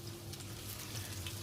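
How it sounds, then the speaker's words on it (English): Food frying in an overcrowded pan during a cooking lesson, giving a steady, even sizzle with low crackling that holds at a constant level throughout, with no voices over it. "If you overcrowd your pan, it's not going to fry evenly"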